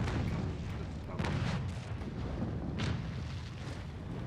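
Ship cannons firing in the naval combat game Naval Action, with several deep, rumbling booms rolling over one another in a dense, continuous barrage of fairly loud gunfire.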